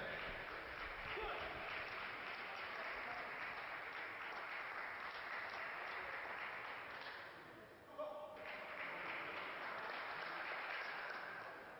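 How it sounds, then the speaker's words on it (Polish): Spectators applaud at a table tennis match between Soumyajit Ghosh and Paul Drinkhall, a steady, even patter of clapping from the arena crowd that dips briefly near the end before resuming. "trzeba pomóc, trochę pobudzić brawa"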